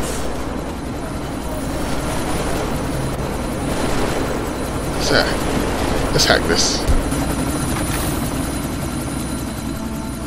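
A helicopter in the video game Deus Ex: Mankind Divided gives a steady, loud rotor and engine drone through the clip, with brief sharp bursts over it and someone speaking.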